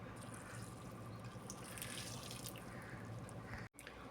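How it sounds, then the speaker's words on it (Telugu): A glass of rice-cooking water is poured into a kacha biryani pot, giving a continuous close splashing rush of liquid that stops abruptly just before the end. "ఒక గ్లాస్ మనం రైస్ ఉడికించుకున్న నీళ్ళు ఉన్నాయి కదా అవి వేసుకోవాలి"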